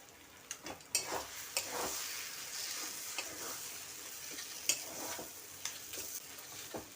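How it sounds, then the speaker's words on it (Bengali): Taro flower curry sizzling and frying in a pan on low heat, with steady crackle and occasional scraping stirs and light utensil taps, close and alone. "এখন চুলার আঁচটা কমিয়ে ভালোভাবে ভাজা ভাজা করে নেব।"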